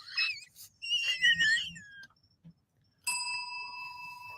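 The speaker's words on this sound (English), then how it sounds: "She just rang her own bell." A bell is rung once with a bright, sustained ring that holds steady for over a second, following brief whistly vocal sounds and a short quiet gap.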